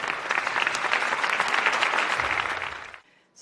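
Audience applause welcoming motivational speaker Joy Baldridge to the stage at a stress reduction presentation, a steady, dense clapping that holds for about three seconds and then quickly dies away.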